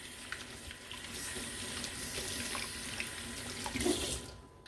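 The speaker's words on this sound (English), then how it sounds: "Now we'll just rinse him off." Running tap water rinses a 1987 G1 Targetmaster Pointblank Transformers toy, a steady close splashing flow with brief louder spatters near the end, no talk.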